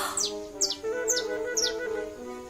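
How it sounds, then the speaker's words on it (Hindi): A small cartoon bird, friend of Cinderella, gives four quick, bright chirps spaced evenly over a soft tonal music bed, close and clear with no talk. "लेकिन वो नहीं जानती थी कि सिंड्रेला की दोस्त चिड़िया उसके पीछे उड़ रही थी।"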